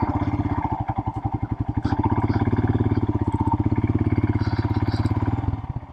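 A Royal Enfield Himalayan motorcycle being ridden, its engine thumping in a steady, rapid pulse that stays loud and close throughout before easing off in the final moment.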